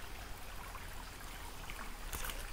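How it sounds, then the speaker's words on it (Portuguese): A small stream runs along the boundary of a rural property, a faint, steady trickling murmur heard from a distance, with a brief sharp tick near the end and no voices. "a divisa leste, é o arroio, o riacho."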